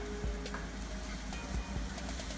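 Egg frying in a pan with coriander and chili, a steady low sizzle with faint crackles and occasional soft stirring clinks, close and fairly quiet, no voices.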